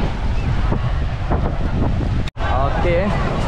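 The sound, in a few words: sea waves washing up the beach at high tide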